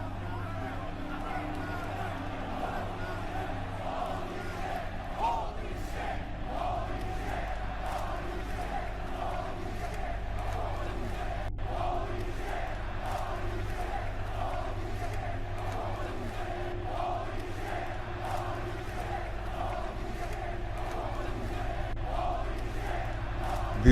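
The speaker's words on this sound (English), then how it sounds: "a standing ovation." A video game wrestling arena crowd in WWE 2K24 gives a sustained standing ovation, a steady, dense roar of cheering and hubbub that holds at an even level throughout with no pauses.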